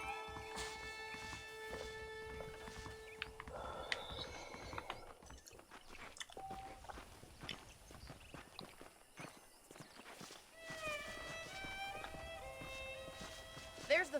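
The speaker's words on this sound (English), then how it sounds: "The horses are saddled up over here." Saddled horses in the Red Dead Redemption western game, with hooves clip-clopping at a walk over ambient music tones and intermittent talk, steady and moderately close.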